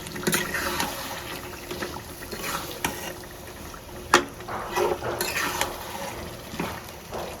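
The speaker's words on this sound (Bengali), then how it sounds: "তো মাংসটা দিয়ে নেড়ে দিলাম।" Chicken meat is stirred into cooked-down spice paste in a pan, making wet squelching scrapes and intermittent utensil clinks against the metal. The stirring is close and moderately loud, with one sharper knock partway through.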